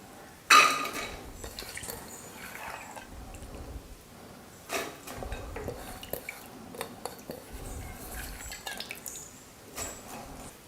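Soaked, washed toor dal tipped into a pressure cooker for sambar, giving a sharp clatter at the start, then scattered clinks and soft rattles of metal vessel and utensils at close range.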